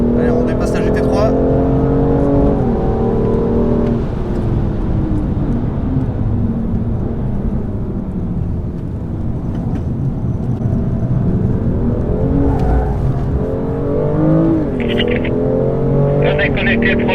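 A BMW M2 accelerates hard on a race track while overtaking a GT3, its engine note rising and falling through gear changes at close range, with someone talking over it.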